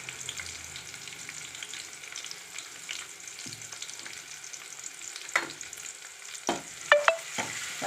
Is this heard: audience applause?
no